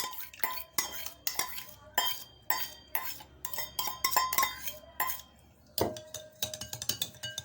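Chana chaat with tomato, onion, green chilli and coriander is mixed in a bowl, with a quick series of close clinking, scraping spoon strokes and short pauses between them, no talking.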